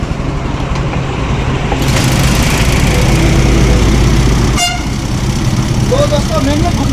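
A Hero Honda Splendor motorcycle engine with a faulty magnet runs steadily and close, its even rumble swelling briefly midway. A short horn-like toot cuts in near the end.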